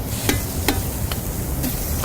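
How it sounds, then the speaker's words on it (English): Olive oil and butter sizzle in a pan on an induction burner: a steady, dense crackling hiss broken by a few sharper pops, with no talking. "A little bit of sizzle there."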